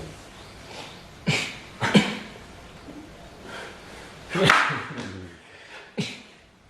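Several sharp coughs burst out at irregular intervals, close by, with quiet breathy sounds in between.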